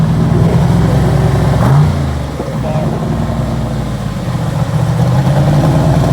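A 1957 Chevy hot rod engine revs loudly and close, rising, dipping briefly, then building again in a steady heavy roar.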